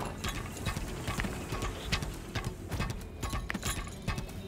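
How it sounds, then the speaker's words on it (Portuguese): Hooves clip-clop steadily as a horse is ridden in the Lost Ark video game. The close, rhythmic hoof strikes repeat evenly throughout, with no talking. "Vou pegar cavalo assim."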